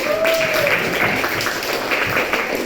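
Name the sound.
applause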